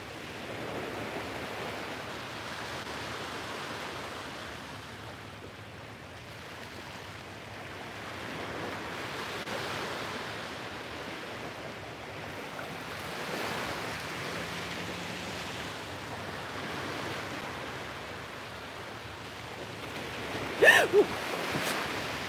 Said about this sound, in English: listen to the waves, and set our intentions for the day